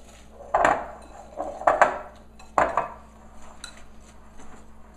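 A utensil scrapes and knocks around the edges of a bowl while stirring a custard mixture of egg yolks and sugar. Several distinct clinking strokes sound close and fairly loud over a quiet background.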